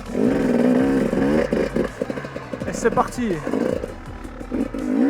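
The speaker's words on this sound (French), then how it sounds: "Donc là, le petit démarreur électrique qui fait bien plaisir." A KTM enduro motorcycle fires up on its electric starter and settles into a loud, close, steady idle with rough throbbing and a few blips, while someone talks briefly over it.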